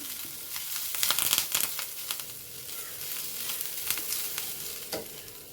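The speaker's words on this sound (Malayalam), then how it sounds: "ഇത് കൂടെ കുറച്ച് കരിവേപ്പിലും കൂടെ ഇട്ടിട്ട് ഇളക്കുന്നുണ്ട്" Crab fry with curry leaves stirred in a clay pot over a gas flame: a steady close sizzle with scraping stir strokes and crackling bursts, no talk.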